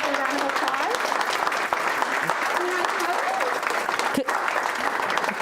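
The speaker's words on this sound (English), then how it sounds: "everybody give you guys a round of applause" An audience at a school board meeting gives a round of applause, steady continuous clapping that runs for several seconds with some murmured voices underneath.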